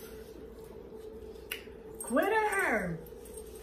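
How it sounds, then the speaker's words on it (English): A dog lets out one short, high whining bark-whimper close by, rising and falling, while a person talks over and around it indoors. "Barks at the least little thing."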